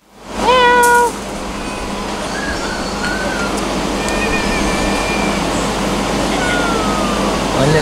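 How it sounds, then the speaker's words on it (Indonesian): Many cats meowing at a snake park in Perlis: a clear, loud meow opens the scene, then overlapping, fainter meows from several cats come and go over steady background noise. "Banyak gila kucing dalam ni."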